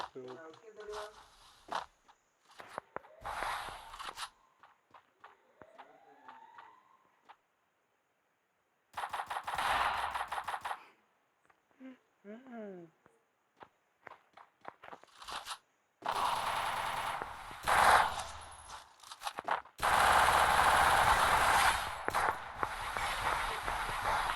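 Short automatic gunfire bursts and single shots from a 2-versus-1 custom match in a shooting video game, sounding loud and in sharp clusters between quiet gaps, mixed with game effects and a player's voice.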